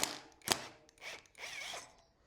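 A large 14 mm Allen key turns out a bolt on a track motorcycle, giving short ratcheting clicks and a couple of sharp metallic ticks, quiet and close with brief pauses.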